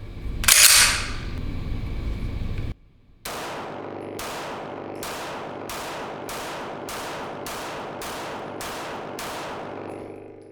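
H&K USP Expert pistol firing, a loud opening blast followed after a pause by a string of eight sharp shots at a steady, evenly spaced rhythm, each with a short ringing decay.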